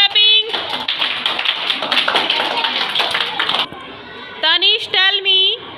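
Second-grade schoolchildren clapping together in a classroom during a general-knowledge quiz, a loud burst of rapid, dense claps lasting a few seconds, framed by short bits of children's and teacher's talk.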